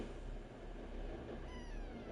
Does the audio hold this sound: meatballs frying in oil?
no